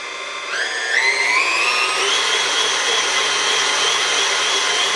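An electric mixer beats meringue on high, a loud steady whirring drone that rises in pitch as the motor speeds up and then holds constant.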